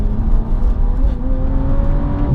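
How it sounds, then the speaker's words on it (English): A 2018 Alpina B4 S engine pulls hard and steadily under acceleration, turbo spooling in a rising harmonic whine layered over a loud continuous rumble, close and without a break. "You hear the turbo spooling up, especially if you've got the windows open"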